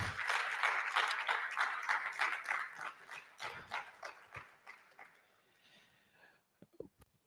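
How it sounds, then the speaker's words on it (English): A lecture audience claps for a public lecture. The applause is fairly quiet and starts as a busy patter of many hands, then thins into scattered claps and fades out, with a few last isolated claps. "let's give him a round of applause"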